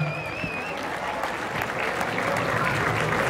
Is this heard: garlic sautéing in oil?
no